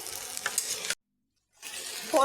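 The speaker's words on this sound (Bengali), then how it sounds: "আগে আমি ফোড়ন আর তেলের সঙ্গেই সবজি ভালো করে মিশিয়ে নিচ্ছি" Cauliflower and potato are stirred in hot oil with tempering spices for a Bengali cauliflower poppyseed curry. The stirring scrapes and sizzles up close, breaks off into a brief silence, then sizzles again.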